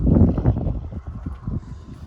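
Gusty wind buffets a microphone outdoors near a reservoir, a loud continuous low rumble that swells and eases.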